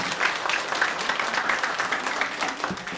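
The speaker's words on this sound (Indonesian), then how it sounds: "Tepuk tangan dong." Steady applause from an audience, many hands clapping together at close range for a few seconds.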